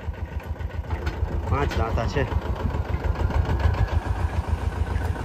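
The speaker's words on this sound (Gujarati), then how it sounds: "રાજભાઈ આપણા નાના ટ્રેક્ટરથી દાંતી ખેડે છે" A Mahindra Jivo 24 hp small tractor runs steadily at a farm while tilling with a tine harrow, its engine thrumming in a rapid even pulse, loud and close, as someone speaks briefly over it.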